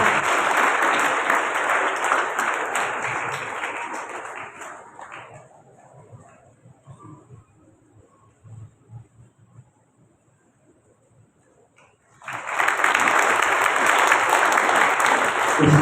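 An audience at a Bible Marathon opening ceremony applauds Father Paul with loud, dense clapping that fades into a near-silent pause, where faint low sounds stir, then a second strong burst of applause returns abruptly.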